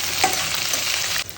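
Green chillies and ivy gourd pieces sizzling in an oil-filled pan, a loud, steady frying hiss close up with a faint stirring scrape, cutting off abruptly after about a second.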